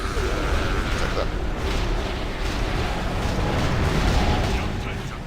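Cannons boom repeatedly during a World of Warcraft gunship battle in a 25-player raid, dense blasts and rumbling impacts layered over continuous battle noise, with voices speaking underneath.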